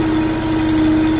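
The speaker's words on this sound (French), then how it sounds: "on va démarrer le mini-chargeur et on va le faire rouler à moyen régime pendant environ 3" Leite LTH-480Z mini loader engine running at medium revs, a steady close mechanical hum and vibration with no talking, brief.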